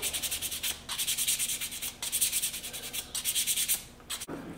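Knife handle scales sanded by hand with 220-grit sandpaper before epoxy, a steady run of close, raspy back-and-forth strokes in bursts with brief pauses between.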